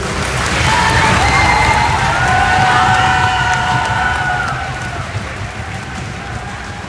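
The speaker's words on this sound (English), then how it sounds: "So round of applause, and that's time for our students." A school concert audience applauds and cheers for student musicians, with dense, loud clapping and scattered voices and shouts that swell, hold, then gradually thin out toward the end.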